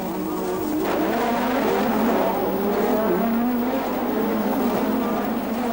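1986 Formula 1 race cars roar steadily at high revs, a sustained loud engine whine with shifting pitch as cars pass through a corner during a race, alone without talk.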